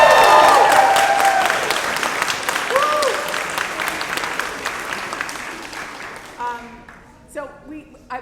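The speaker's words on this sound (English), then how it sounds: "Can we just give a round of applause for Amelia?" Audience applause fills a parish hall after an orchestra concert, loud and sustained at first and then tapering off into scattered claps as a voice speaks over the fading crowd.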